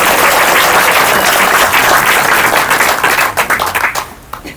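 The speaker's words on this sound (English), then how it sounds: "We're going to clap for the other people." A congregation claps loudly and steadily at an office dedication gathering, a dense sustained wash of applause that breaks into scattered individual claps and fades out near the end.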